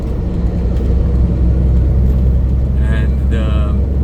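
A truck drives south on Texas Highway 287 toward Dallas, its engine and road noise forming a steady, loud low rumble throughout, with a brief faint higher sound near the end.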